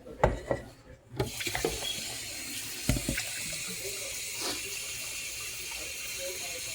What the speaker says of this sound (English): This is water I'm catching in the teapot to put it back on the stove to cook there.